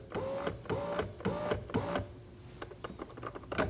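Front power window on a 2011-2016 Kia Optima being raised, a repeated electric motor whir with rising whine in short pulses, close and clear in a quiet space.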